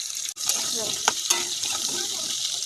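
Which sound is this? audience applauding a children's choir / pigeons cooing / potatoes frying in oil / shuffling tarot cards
potatoes frying in oil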